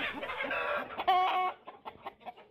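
Chickens with a respiratory illness cluck close by in short, uneven bursts, with one louder squawking call in the middle, then softer scattered clucks.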